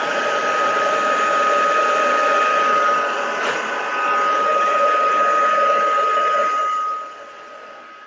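A heat tool melts embossing powder in a card-making session: a steady, loud blowing whir like a hair dryer that runs close for most of the clip, then drops off sharply near the end.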